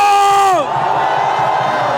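Following a brief amplified call from a man, a dense crowd of rally-goers at an anti-impeachment gathering at Dongdaegu Station, Daegu, bursts into loud cheering and shouting that fills the rest of the moment.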